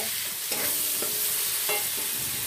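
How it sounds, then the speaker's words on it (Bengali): Peas and tomato stirred in hot oil in a home kitchen pan, a steady frying hiss broken by a few scraping stirs of the spatula, close and moderately loud, with no talk. "তেলেতেই মটরশুঁটি আর টমেটোটা দিয়ে দিলাম, একটু নেড়ে চেড়ে দিচ্ছি"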